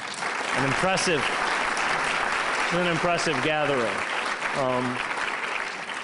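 A conference audience breaks into steady applause at a lecture on Palestine, a dense wash of clapping while someone speaks briefly over it.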